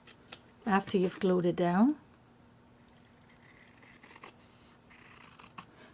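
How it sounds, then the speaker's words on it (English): Scissors trim the edge of a stitched paper Post-It booklet, making soft, repeated snipping and rasping cuts close by after a short burst of speech. "So I'll be trimming a little wide, just so, because I don't want to hit one of my stitches."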